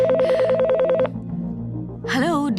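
A telephone rings with an incoming customer call at a design services office: a warbling electronic ring pulses for about a second, then breaks off into other synthetic tones, all loud and close.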